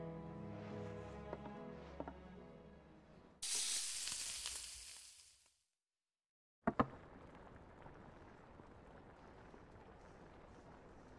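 Monster liver fritters frying in Final Fantasy XVI: soft music gives way to a loud two-second burst of sizzling, then a silent gap, a sharp clatter and a faint lingering hiss.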